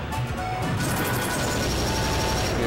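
A charged smash attack lands in Super Smash Bros. Brawl during a tournament match, a loud crashing impact over dense, continuous game noise and crowd din.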